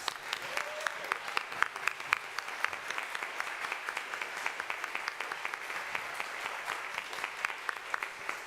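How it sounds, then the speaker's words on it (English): A church congregation at a Sunday service applauds warmly, with sustained, even clapping from many hands in a large room and a faint voice briefly audible near the start. "warm round of applause."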